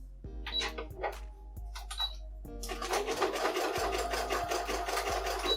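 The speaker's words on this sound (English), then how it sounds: "Fold it over once again, and I'm going to start hemming." A sewing machine hemming a fitted dress: a few short starts and stops with light clicks, then a continuous, fast, close-up mechanical whir of stitching for the last few seconds.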